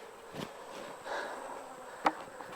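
Honey bees buzz around the hives at an apiary during September hive work, a soft diffuse hum with a few louder passes close by, one sharp near buzz standing out briefly.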